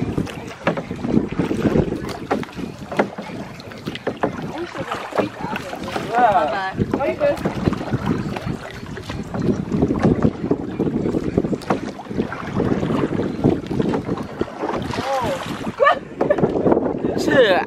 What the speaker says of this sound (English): Okay, paddle. Okay, both gotta paddle.